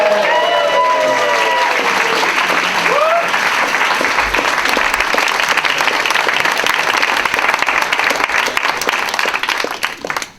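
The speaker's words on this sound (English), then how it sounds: "round of applause please for Jess, Pseudo Jess." An audience at a game jam awards ceremony applauds a prize winner with loud, dense, sustained clapping and some cheering, steady for about ten seconds before trailing off; a brief whoop rises near the start.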